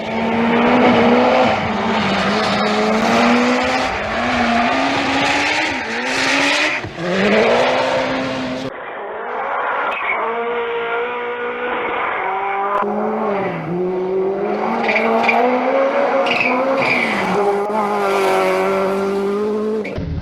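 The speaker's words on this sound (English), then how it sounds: "Cette Ford RS200." A Ford RS200 Group B rally car races hard, its engine screaming loud and close through repeated rising revs and sharp gear changes, with a brief dip midway before climbing again.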